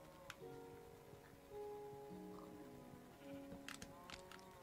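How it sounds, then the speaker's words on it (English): A sheep in Minecraft gives several faint, wavering bleats over a soft background of tones and light clicks. "Look at that little sheep, he wants to get out."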